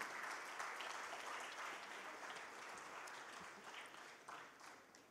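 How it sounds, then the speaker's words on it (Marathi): An audience claps steadily for Girish Kuber at a formal event, a dense, even wash of many hands that holds for several seconds before tapering slightly, heard from a moderate distance. "एकदा जोरदार टाळ्या गिरीश सरांसाठी."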